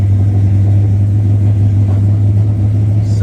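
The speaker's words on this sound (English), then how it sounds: "We're gonna fire it up. Give it a little gas. Big old cam, racing cam." A 1969 Chevrolet C/K 10 pickup with a big racing cam idles steadily up close, its deep, heavy engine rumble constant and loud throughout with no talking.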